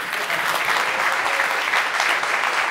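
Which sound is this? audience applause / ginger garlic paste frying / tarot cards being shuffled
audience applause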